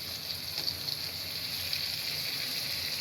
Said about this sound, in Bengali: এখন এটা ভালোভাবে একটু ভেজে নিচ্ছি।